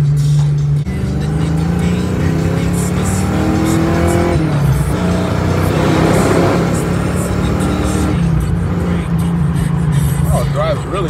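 A Ford Mustang 5.0 Fox Body drives with a loud, continuous engine note that rises and falls through revs, with a brief tire squeal, while people talk over it inside the car.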